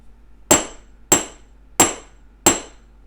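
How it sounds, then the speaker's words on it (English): A chasing hammer strikes round wire four times to flatten it, sharp, ringing metallic taps evenly spaced about half a second apart, close and alone with no talk. "I flattened it out using a chasing hammer"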